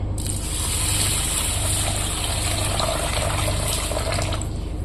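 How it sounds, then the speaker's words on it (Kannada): Water pours steadily and loudly into a vessel of washed rice and vegetables for pulao, a continuous gushing stream with no voices. "ನೀರು ಹಾಕಣ್ರಿ"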